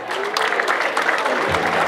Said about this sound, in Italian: Allora accogliamo con un grande applauso